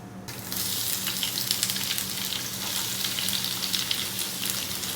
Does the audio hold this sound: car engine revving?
no